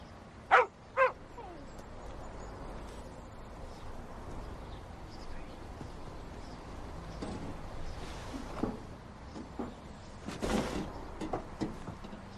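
A dog in a house gives a couple of sharp barks, then quieter whimpers and yips scattered through a stretch of room noise, with people talking in between.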